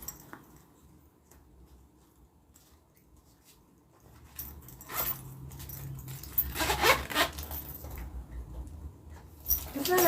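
A small zipper on a mini zip-around wallet pocket being drawn open, a soft scratchy run of zip teeth rising midway and continuing in uneven pulls, close and fairly quiet with no speech.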